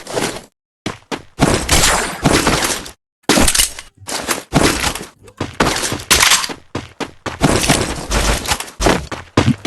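Gunfire in the battle-royale game Free Fire: dense, loud bursts of shots and sharp cracks, with brief gaps between volleys, filling the whole stretch without talk.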